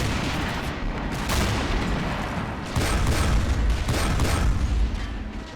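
Heavy gunfire and booming explosions from a WWII German amphibious beach assault in Crimea in a video game, shells striking Soviet coastal gun positions; a dense, loud, continuous barrage of rumbling blasts and rattling shots with no clear pauses.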